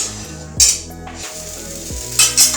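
Green chilla batter sizzling in an oiled pan, a steady close fry with brief louder hissing bursts as the cake is turned over, with light clinks of the utensil against the pan.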